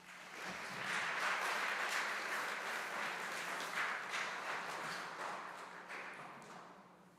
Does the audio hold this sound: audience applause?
yes